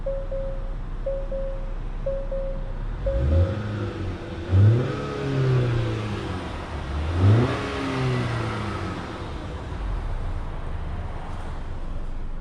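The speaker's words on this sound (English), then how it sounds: "let's go ahead and take this Acura TLX on a POV test drive" A 2021 Acura TLX engine builds in a few rising revving surges under acceleration on a road drive, heard from inside the cabin over steady road noise. A brief tone beeps several times at the start.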